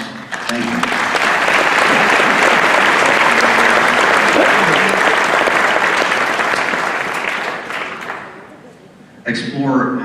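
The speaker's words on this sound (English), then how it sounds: "Please, another big round of applause for yourselves." Loud, sustained audience applause at a Charlotte County sheriff's dinner rolls on for about nine seconds and gradually thins out, then a single voice begins speaking.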